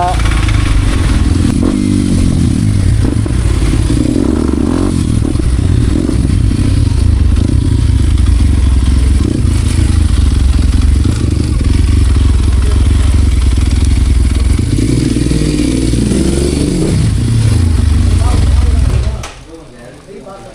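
A modified Kawasaki KLX 230 dirt bike with a Norifumi exhaust rides on, its engine a loud, continuous low rumble with wind and some talk, until it drops away abruptly near the end.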